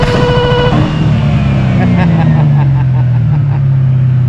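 Ford Mustang with an Eaton 2V supercharger revs hard, its loud engine roar falling steadily in pitch as it winds down, close and continuous.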